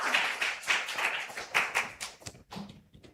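A church congregation claps during a Sunday worship service, a burst of hand claps that grows sparse and scattered before fading, with no talking.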